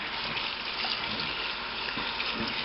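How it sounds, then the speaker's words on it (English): Hot tap water gushes steadily into a feed tray during a honey harvest, a loud continuous close hiss with no pauses. "And for that I use hot tap water. And just run it in here."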